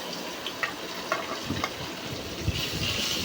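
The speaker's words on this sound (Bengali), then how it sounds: "এই যে মাছগুলো আমি মরিচ হলুদ লবণ সব কিছু দিয়ে এখন ভাইজা নিব ভালো করে" Fish coated in chili, turmeric and salt fries in a pan with a steady, moderate sizzle and crackle, punctuated by a few brief ticks and pops, with no talking.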